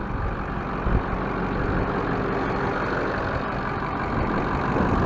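A Powerstroke 6.0 diesel truck engine idles steadily just after starting, a close, loud, even rumble that holds without a break.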